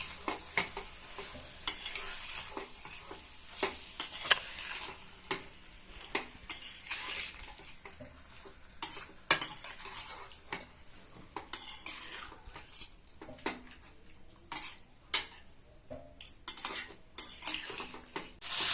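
Soybean curry with kasuri methi stirred in a pan, a low sizzle under repeated scraping and clinking of a metal spoon against the pan in an irregular rhythm, fairly quiet and without speech.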